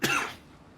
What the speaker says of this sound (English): The helmsman breaks into a dry coughing fit.